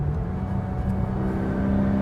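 A Singer-built Porsche 911 engine running on the road, a steady mid-low drone with a constant hum and slight rising tone, loud and close with no talking.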